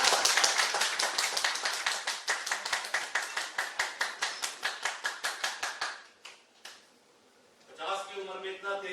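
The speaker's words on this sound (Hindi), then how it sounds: "जोरदार तालियां" An audience at an in-person gathering breaks into loud, rhythmic group clapping that holds a steady beat for several seconds, then fades out, leaving a voice speaking afterward.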